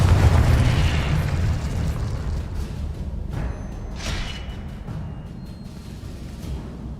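Confringo and Incendio fire spells burst in the Hogwarts Legacy wizard game, a heavy booming blast that slowly decays into roaring flames, with several sharper crackling whooshes flaring up partway through and no voices.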